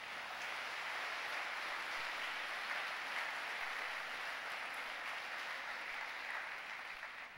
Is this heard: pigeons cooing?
no